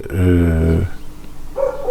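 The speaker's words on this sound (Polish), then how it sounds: "przeszkadza państwu pies?" A dog outside barks through an open window, one loud drawn-out bark followed by quieter, shorter barks in the background.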